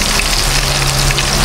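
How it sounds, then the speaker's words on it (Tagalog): Fish fry in a pan with a loud, close, unbroken sizzle of dense crackling hiss and no talking. "ngayon naman po ay iprito naman natin yung ating mga isda po"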